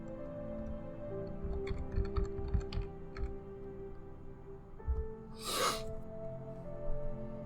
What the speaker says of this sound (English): Excuse my keyboard for a minute.